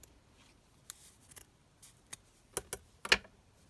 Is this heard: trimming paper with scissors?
yes